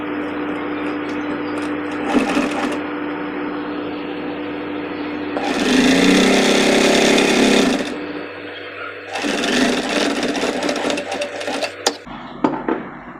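A sewing machine stitches along the corner of a blouse strip in three bursts of steady, loud whirring and needle chatter separated by quieter pauses filled with handling sounds.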